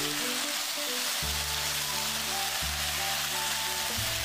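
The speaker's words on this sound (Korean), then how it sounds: "불의 세기를 강불로 맞추고 빠르게 볶아 예쁘게 고추색을 입혀주듯이 볶아줍니다" Shishito peppers and fish cake stir-frying with chili powder over high heat, a dense continuous sizzle with low steady hum and a couple of soft clunks as the pan is moved, close and even, no speech.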